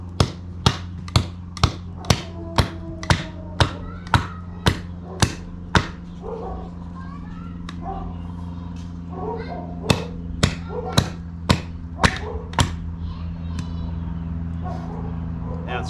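Sharp, regular hammer blows driving the tip of a Russo Steel Worx Huntsman camp knife into wood, a steady run of loud close strikes, a pause, then another series, over a low background hum.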